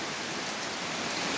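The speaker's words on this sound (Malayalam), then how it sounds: "ഇത് പക്ഷെ നല്ല മഴയാട്ടോ" Steady, dense hiss of heavy rain falling outdoors in a garden, continuous and fairly loud across the whole moment with no voices.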